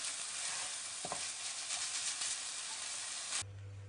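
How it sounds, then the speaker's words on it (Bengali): Chhana (fresh milk curd) cooking in a pot on low heat for a Bangladeshi carrot dessert, giving a steady soft sizzle and stirring scrape throughout that stops abruptly near the end, leaving a low hum. "চুলার আঁচ লোতে রেখে ছানাটা রান্না করে নিতে হবে"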